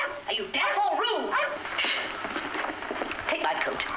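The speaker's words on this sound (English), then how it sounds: "Go away, dog. Go away. Go away." A dog in a 1955 film yips and whimpers excitedly up close, with fast overlapping barks and whines, while people talk over it.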